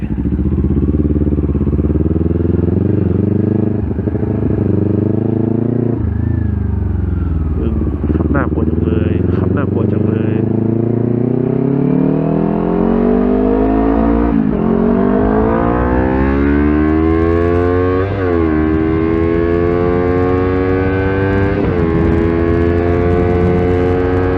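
Kawasaki Ninja 400 motorcycle fitted with an SC Project exhaust, revving repeatedly at a roadside with rising and falling engine pitch, loud and close throughout.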